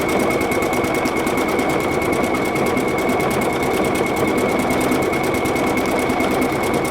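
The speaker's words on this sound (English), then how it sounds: "I can press start stop, and now it's going to stitch the flowers" A PFAFF creative icon sewing machine stitches a flower pattern, its motor running as a steady, loud, rapid mechanical whir with even needle ticking throughout and no talk over it.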